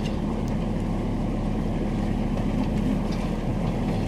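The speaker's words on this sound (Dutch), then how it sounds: "En we varen nu weer terug naar de haven." A boat motors back to the harbour with a steady, loud engine rumble and water and wind noise, continuous throughout with no voices.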